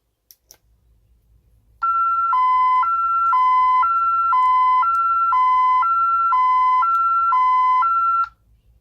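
A Honeywell 6160VPADTHD home security alarm keypad sounds a loud electronic siren, alternating between two tones in a steady rapid warble for several seconds, then cutting off abruptly.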